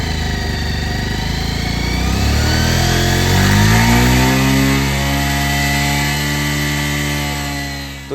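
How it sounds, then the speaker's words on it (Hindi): A secondhand motorcycle's engine revs up loudly and close, its pitch climbing and holding high for several seconds before easing back down, with no talk over it. "गाड़ी को रेस करने के बाद जो नॉइज़ आने वाला है ना"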